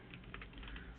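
Someone types on a computer keyboard, a quick run of light, soft clicks over a quiet background, with no voice heard.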